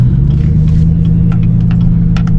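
A Chevy Tahoe engine idles steadily in V8 mode, a low continuous rumble with a smooth even drone, close and loud throughout, with faint clicks and ticks above it.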